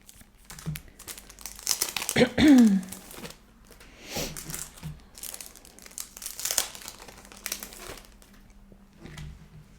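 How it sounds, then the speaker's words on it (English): Crinkly plastic packaging around Mr. Pen sticky notes, 28 by 28 millimetre, is torn open and handled in repeated bursts of crackling and rustling, loudest early on, with a brief voice in the background. "I'm going to open these up, and they're going to be crinkly off screen here for a moment"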